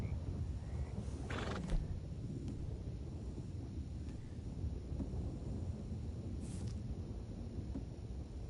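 A horse in the Red Dead Redemption II video game whinnies once, clearly and fairly close, near the start over steady wind noise, followed by faint hoof clops.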